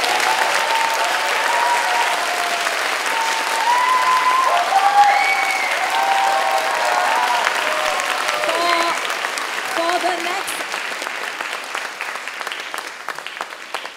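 A charity concert audience gives sustained applause that stays full and steady throughout. Faint musical tones and crowd murmur sit underneath, and the clapping thins into scattered individual claps near the end.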